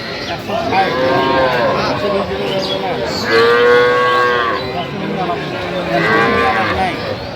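Dairy cows and calves at the Aftabganj cattle market in Dinajpur give three loud, drawn-out moos, one after another, over a busy market murmur.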